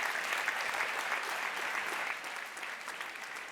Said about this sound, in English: I think that's an applause.